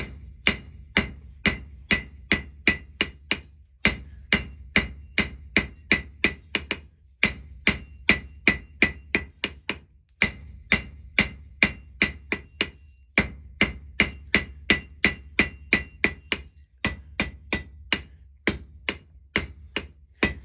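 A blacksmith hammers a square taper on a hot steel bar in rapid runs of sharp ringing blows, pausing briefly between bursts, loud and close with no talking.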